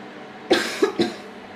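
Three short, sharp coughs in quick succession, close and clear, with a faint trailing breath afterward.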